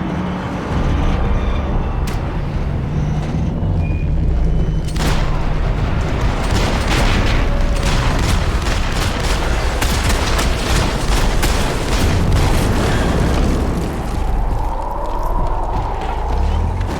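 Gunfire in the Max Payne 3 video game crackles as rapid bursts and scattered sharp shots over a dense, loud action soundscape, with no clear speech.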